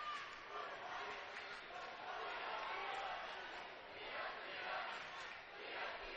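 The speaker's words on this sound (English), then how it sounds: "And there's the crowd getting into it" Crowd noise rises and falls in waves at a high school girls' basketball semi-state game in a gym, spectators roaring and chanting together at a steady, fairly distant level.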